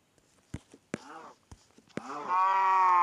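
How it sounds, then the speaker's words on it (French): In a farming video game a cow moos, a drawn-out low call that swells and holds at the end after a few soft clicks and brief sounds, heard clearly without talk. "Ah bah une vache."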